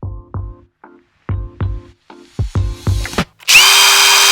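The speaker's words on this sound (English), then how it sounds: "Re-drill these screws right here on the side" A power drill runs in short bursts as screws are driven on the side of a DIY overhead camera rig, its motor whining up and down in several close, loud pulses before a final harsher grinding spin.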